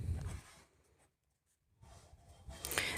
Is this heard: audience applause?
no